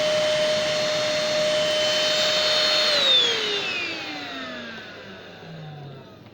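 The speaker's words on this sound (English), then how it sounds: "Not a bad sounding vacuum" A Silver Crest cordless vacuum cleaner runs with a steady high whine and motor hum at close range, then switches off and spins down, its pitch sliding lower as it fades.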